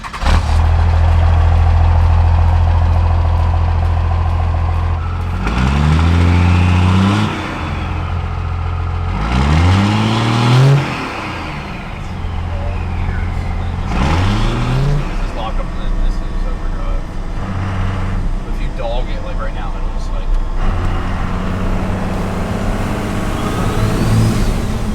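A compound-turbo 12-valve Cummins diesel in an OBS Ford truck rumbles loudly nearby, revving up in several rising surges between steadier idling, while people talk over it.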